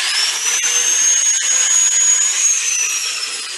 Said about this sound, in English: One is using a power sander and sanding the bottom of it